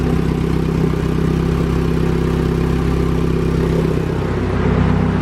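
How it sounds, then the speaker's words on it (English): Turbocharged Honda Civic GSR engine idling steadily after a timing job: a close, even, continuous low rumble with a faint clatter, no talk. "Very smooth running motor."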